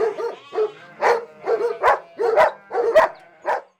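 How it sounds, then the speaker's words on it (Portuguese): Maremma sheepdogs guarding sheep bark in a run of about eight loud, close barks spaced roughly half a second apart, with no talk over them. "Os ovinos são protegidos pelos cães de guarda da raça Pastor Maremano."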